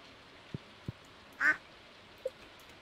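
A single duck in the farming game Stardew Valley gives one clear quack against a quiet background, preceded by a couple of soft ticks and followed by a small blip.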